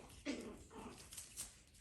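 Toy Pomeranian puppies whimper and yip softly, with a few short, faint whines spaced across a brief moment at close range.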